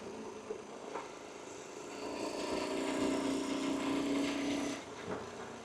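A small Honda CT90 motorcycle rides along with a low, steady engine drone and an even tone. Heavy rushing wind noise covers the engine, and the sound swells in the middle before easing off.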